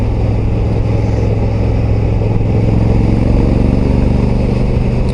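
Honda Africa Twin Adventure Sports motorcycle on the road, its engine giving a steady, loud droning hum with a slight rise in pitch partway through, heard alone without talk.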